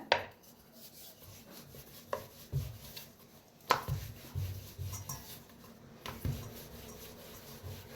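Paneer paratha dough being rolled out with a rolling pin on a board, a soft rubbing roll broken by a handful of sharp knocks and thumps at irregular intervals, close and fairly quiet with no talking.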